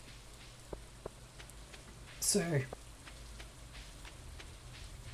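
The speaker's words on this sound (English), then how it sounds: "Quiet moment in the rain is always nice." Rain falls in the farming game Stardew Valley, a soft, steady patter with light drips throughout, while a brief spoken word cuts in near the middle.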